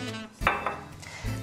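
A saucepan handled on a kitchen stove, with sharp metallic clanks of pot against pan and cutlery, two distinct knocks over a low background hum, no talking.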